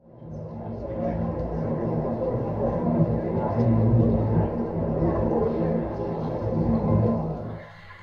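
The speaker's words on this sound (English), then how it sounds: "when tested under some very loud simulated cafe-style background noise such as this" Loud simulated cafe-style background noise, a dense steady babble of indistinct chatter and room rumble that swells and fades, continuous for several seconds.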